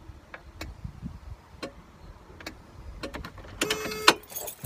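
A truck that won't start gives scattered faint clicks from the starter as the key is turned, several sharp ticks spread apart, then a quick burst of rapid chattering clicks near the end, quiet and close.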